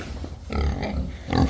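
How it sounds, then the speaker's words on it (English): Pigs in a farm barn give a few low, close grunts over about a second and a half, with no talking. "So we have 3 pigs right now."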